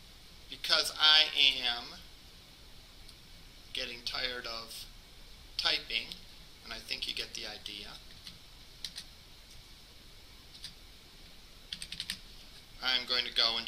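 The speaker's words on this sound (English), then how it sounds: "because I am getting tired of typing." Computer keyboard typing during a PHP client/server scripting lecture, quick bursts of key clicks recurring between stretches of a man's speech in a classroom setting.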